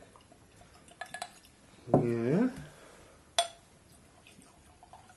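Spirit is poured into tasting glasses, glass clinking lightly before a brief gurgling pour and a sharp tap of glass at the end, close and quiet, with a short spoken word.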